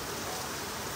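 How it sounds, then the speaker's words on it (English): Rain falling outdoors during a BMW door handle repair, a steady, even hiss of drops filling the whole moment with no other sounds standing out. "Don't mind the rain, it's starting to come down here"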